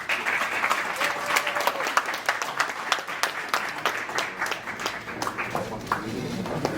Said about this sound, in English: Please give a good round of applause for Chef Kawasaki.